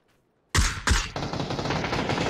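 PUBG gunfire: two sharp, loud shots after a brief silence, then a steady, rattling automatic burst that keeps going to the end.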